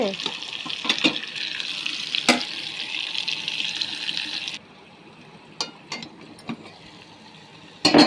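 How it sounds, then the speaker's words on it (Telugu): Brinjal curry frying in a pan, heard as a close, crackling sizzle with intermittent scraping stirs and clanks of a spoon, which drop away partway through before a final clatter. "మధ్య మధ్యలో పైకి కిందకి ఒక్కొక్కసారి కలుపుకోవాలండి కూర"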